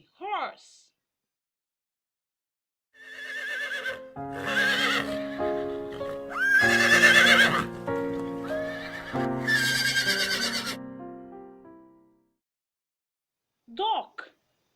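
A horse gives a long, loud whinny with a trembling, wavering neigh lasting several seconds, framed by short snorting calls at the start and end, close and clear.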